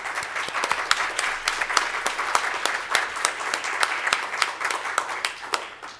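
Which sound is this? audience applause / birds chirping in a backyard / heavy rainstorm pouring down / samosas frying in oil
audience applause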